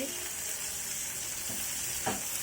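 Chopped green chilies and softened onion fry in oil in a pan, a steady bright sizzle with a couple of soft stirring scrapes near the end, no voices.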